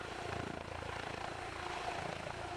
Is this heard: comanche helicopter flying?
yes